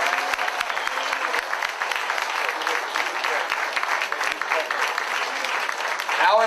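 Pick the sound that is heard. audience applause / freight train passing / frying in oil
audience applause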